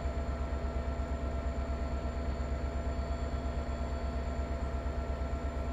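Suburban passenger train from Train Sim World 2 heard from an outside view, a steady low rumble and hum with a faint tonal whine, continuous and even throughout with no change in pace.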